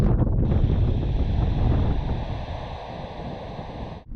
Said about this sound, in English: we're struggling with this wind today